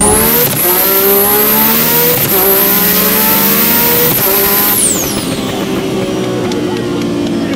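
A 1500-horsepower turbocharged Lamborghini Huracan accelerates hard through several gear changes, its loud engine climbing repeatedly with a high turbo whine, then easing off as the whine fades.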